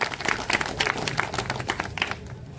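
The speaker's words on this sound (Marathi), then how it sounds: "त्यांचं मी या ठिकाणी जोरदार टाळ्या वाजून अभिनंदन करतो" Crowd clapping at a public meeting in a village, a short burst of dense, moderately loud applause that tapers off quickly.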